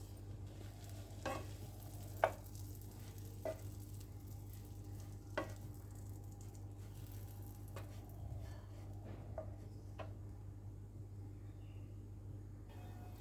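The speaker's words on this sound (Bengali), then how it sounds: "বাটারটা গলে আসলে এবার আমি পাউরুটির যে কেটে রেখেছিলাম গোল গোল করে, এটা একটু ফ্রাই করে নেব হালকা" Round slices of bread fry lightly in melted butter for instant rasmalai, a faint, quiet sizzle over a low steady hum, broken by a few soft clicks and taps of a spatula, with no talking.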